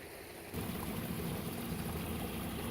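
Backyard pond waterfall in spring gives a steady, fairly close rush of falling water, a broad even wash that swells slightly after the first half second and continues unbroken, with no voices.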